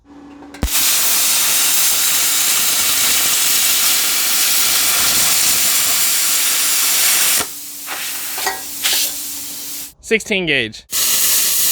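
A Simder CUT 50 plasma cutter running on 110 volts at 20 amps slices rusty 16 gauge sheet metal with a loud steady roaring hiss that starts abruptly, falters, and ends in a sputtering burst, with someone speaking briefly.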